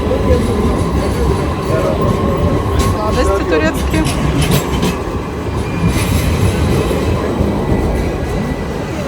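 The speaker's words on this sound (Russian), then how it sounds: "И трамвай буквально в 50 сантиметрах от меня." A tram passes very close on a busy Istanbul street, its rolling wheels and rail rumble filling the scene with a steady, loud presence while a person speaks over it.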